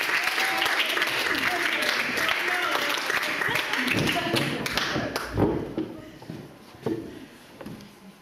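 An art school audience gives performer Kimberly loud, dense applause that fills the room and trails off toward the end, with thumps and a voice speaking over the clapping.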